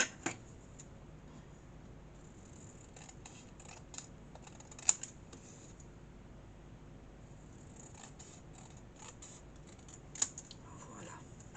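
Scissors cutting paper or card for a Santa's sack craft on a table, heard as a run of soft, quiet snips with a couple of sharper clicks, close up and with no talking.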